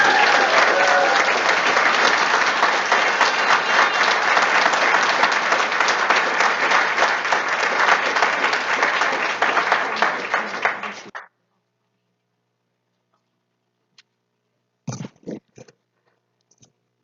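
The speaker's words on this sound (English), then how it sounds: "And we can clap." Applause from an audience at a school board meeting, steady and loud for about eleven seconds before it abruptly stops, leaving near silence with a few faint scattered noises.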